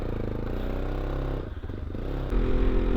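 A motorcycle carrying three riders hums along with a steady, buzzing engine note, dips briefly as it eases off, then grows louder and rougher again as it pulls ahead.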